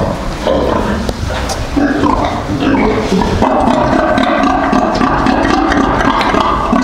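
Pigs, a sow with her piglets, grunting and squealing continuously, close and loud, a dense overlapping chorus of snorts and oinks throughout.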